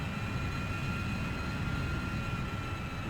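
Yak-130 jet engine in Microsoft Flight Simulator, a steady, dense roar with a high whining tone holding on top, constant in loudness throughout and without any voices.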